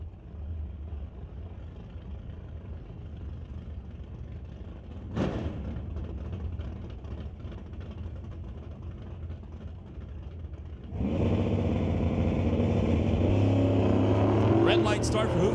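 Chevrolet and Super B drag race cars at an ET Series pro race, a steady low engine rumble building into a loud, broad launch roar near the end, with an announcer talking over it.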